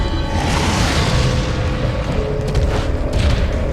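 Grenade blasts in Resident Evil 4 on Professional mode, a loud continuous low rumbling boom that stays dense and sustained throughout with no clear gaps.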